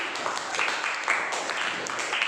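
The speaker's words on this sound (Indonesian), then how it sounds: "tepuk tangan untuk kelompok tiga ya, saya sudah tepuk tangan" A classroom of students applauds for a presenting group, producing continuous dense clapping that stays steady and fairly loud throughout.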